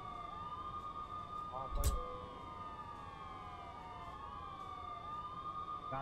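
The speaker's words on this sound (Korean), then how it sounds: "야, 재난 사이렌." Disaster warning siren in Euro Truck Simulator 2 on a multiplayer server, several wailing tones rising and falling in overlapping sweeps at moderate distance, with a short burst of noise partway through.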